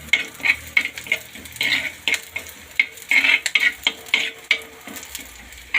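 Curry leaves and spices fry in a pan for a Kerala-style fish curry, giving a constant soft sizzle under repeated metallic scrapes and clinks as a spatula stirs in an irregular rhythm.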